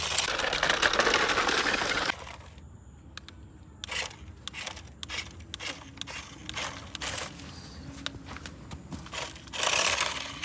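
A steady engine rumble runs throughout, with a loud broadband roar at the start and end and rhythmic mechanical clatter in between; no talking.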